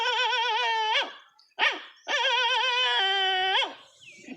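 A voice imitates a dog with long, wavering whining howls, three drawn-out calls separated by brief pauses, close and clear.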